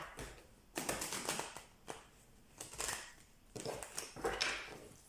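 Tarot cards shuffled by hand in several bursts of rapid riffling and slapping, close and fairly quiet, with brief pauses between rounds.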